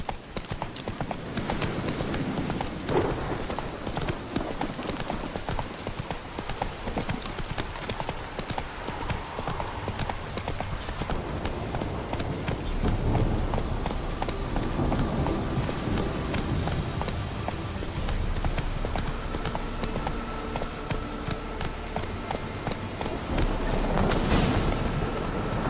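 A horse in The Witcher 3 gallops with a rapid, steady clip-clop of hooves that continues throughout, over a bed of ambient game sound and occasional whooshes.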